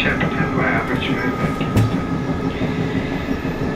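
A South West Trains Class 455 electric multiple unit running on the Shepperton via Richmond line, a steady loud rumble of wheels and traction with a brief squeal, heard from inside the train with no talk.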